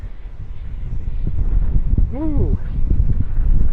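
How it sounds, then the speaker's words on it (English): Strong outdoor wind buffets the microphone in a steady low roar that swells toward the end, with a brief exclaimed voice partway through. "It is very windy today."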